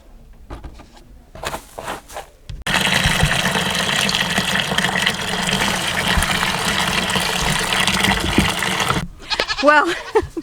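Horned farm goats bleating on a homestead, several loud sustained calls filling the middle stretch, with brief quieter sounds before and a few sharper cries near the end.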